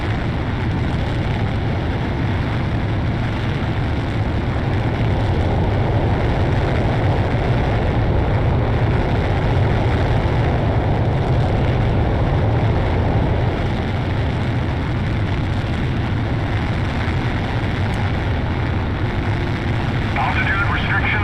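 A fighter jet in the Ace Combat Zero video game roars through takeoff with a loud, sustained engine rush that holds steady for the whole stretch, mixed with a broad airy wash.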